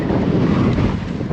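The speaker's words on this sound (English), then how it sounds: "This wind, it's like nothing I've ever experienced." Strong Patagonian wind near Esquel, Argentina, roars steadily and loudly, buffeting the microphone with a continuous rumbling gust and no voices.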